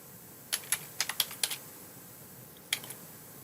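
Short bursts of keys clacking on a computer keyboard as a database name is typed, a quick run of about ten light taps followed by a few more after a pause, close and clear in a quiet room.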